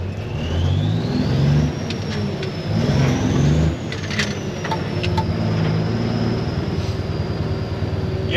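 A truck engine revving up and dropping as gears shift during a driving school lesson, loud and close with a rising whine that climbs, falls back and settles into a steady drone, no talk over it.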